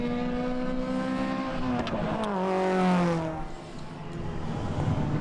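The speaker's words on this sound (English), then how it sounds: "We've got some of the other cars that have been lapped coming through the finish at the moment." Lapped race cars, MG and other British sportscars at the Winton Festival of Speed 2023, roar through the finish line one after another, their engines rising and falling in pitch as they sweep past at moderate distance.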